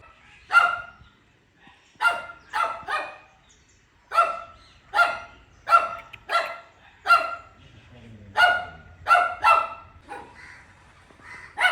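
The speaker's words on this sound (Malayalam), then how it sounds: "ആ ഡോഗ് ഉണ്ടോ കിടന്ന് കുരച്ചോണ്ടിരിക്കുന്നത്" A small dog barks repeatedly in sharp, high-pitched yaps, sometimes single and sometimes in quick bursts of two or three, fairly close.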